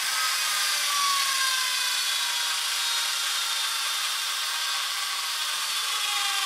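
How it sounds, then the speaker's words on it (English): Steady continuous sanding of paint off a tool's handle and shank, a bright, even abrasive rasp that runs unbroken and fairly loud with no pauses. "before you start doping, I sand off the paint"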